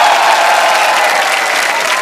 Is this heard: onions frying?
no